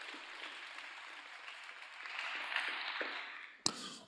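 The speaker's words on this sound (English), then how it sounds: "we should give a round of applause for all the participants" Audience applause at the Pacific Dataviz Challenge 2024 prize ceremony for all the participants: a steady, moderately loud wash of clapping that swells slightly, then ends with a sharp tap near the close. Nobody speaks over it.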